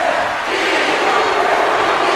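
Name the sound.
wrestling fans in Chicago chanting a wrestler's name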